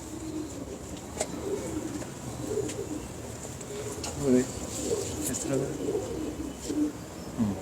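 Pigeons coo in repeated soft, throaty calls nearby, several overlapping at a low, steady volume over faint background noise.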